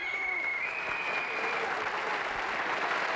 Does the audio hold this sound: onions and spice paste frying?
no